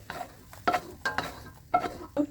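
Scrambled eggs cooking in a pan and stirred with a utensil, heard as a soft bed of sizzle broken by several distinct scraping strokes in an uneven rhythm, close and fairly quiet.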